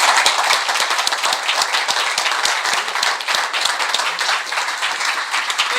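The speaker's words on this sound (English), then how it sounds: "So please give a warm applause to Dr." A lecture audience gives a warm welcoming applause to a physicist, dense, loud, sustained clapping from many hands that rolls on evenly throughout.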